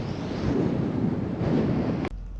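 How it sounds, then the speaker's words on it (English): Wind gusting at night somewhere between Bismarck and Fargo in North Dakota: a steady, loud roar with rumbling buffeting against the microphone, cut off abruptly near the end. "It's getting chilly, Willie. Windy. Always blows in Nodak, doesn't it?"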